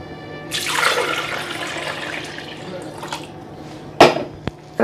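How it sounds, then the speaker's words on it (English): Water splashes and streams steadily into a pot holding strained beets and ginger for a few seconds, then trails off, followed by a couple of sharp clinks near the end. "Gonna add 2 more cups of water."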